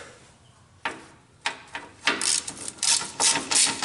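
A ratchet wrench loosens half-inch bolts on the engine shroud of an MTD GT2050 lawn tractor, a quiet start giving way to several bursts of close, rapid clicking.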